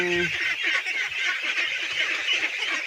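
Pet ducks being fed banana trunk on a farm make a loud, close, continuous chorus of honking quacks for a few seconds.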